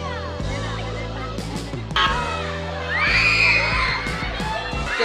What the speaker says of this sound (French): T'aimes pas les gosses qui hurlent, la mer de sable n'est clairement pas un parc qui est fait pour toi.